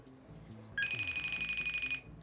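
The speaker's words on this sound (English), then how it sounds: "Answer the phone, Katie." A telephone ringtone, a single bright electronic trill, rings once for about a second over quiet background voices.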